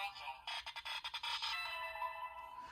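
A Bandai DX SpiderPhone toy from Kamen Rider Geats plays its mission failed electronic jingle: a rapid burst of stuttering tones, then a sustained descending ringing chime, loud and close.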